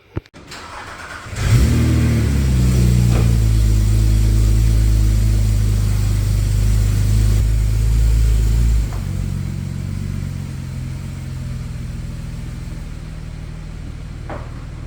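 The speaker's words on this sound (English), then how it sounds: "We got to move the Porsche." A Porsche's engine cranks and catches at about one second, then settles into a loud, steady idle close to the microphone. Around nine seconds it drops slightly in level as the car pulls away and moves off, with no talking.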